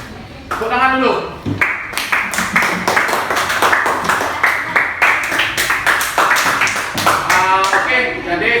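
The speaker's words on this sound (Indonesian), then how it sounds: "Nah, tepuk tangan dulu." Students in a floor gymnastics class clap their hands in sustained, dense applause, loud and close, while voices talk over the start and the end.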